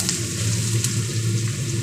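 Steady, close sizzling of onions lightly frying in a hot pan, continuous and even with no voices.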